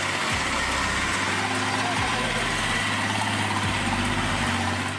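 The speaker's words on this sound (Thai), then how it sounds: "ลองฟังเสียงกันดูโอ้โหสงสารเครื่องยนต์จังเลย" An off-road truck engine drones steadily and loudly as it labours over rough terrain, a constant heavy mechanical hum with faint voices underneath.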